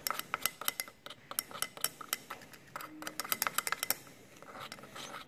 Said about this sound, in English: Just keep stirring, keep stirring,